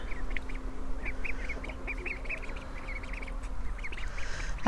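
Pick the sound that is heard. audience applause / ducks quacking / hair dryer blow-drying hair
ducks quacking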